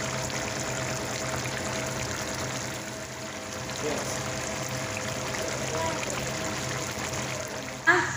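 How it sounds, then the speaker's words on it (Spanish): Water pours steadily over beef liver in a pan, a continuous trickling wash lasting several seconds with a brief clatter at the end. "Le vamos a echar un poquitito de agua hasta arriba para que se ablande bien lo que es esa carnita."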